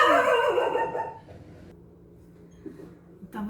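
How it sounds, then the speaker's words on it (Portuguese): A pet dog barks indoors at home, a loud burst of barking at the start that fades into quiet room noise, with a faint thump near the end. "vocês ouviram aí o latido do meu cachorro que estava aqui"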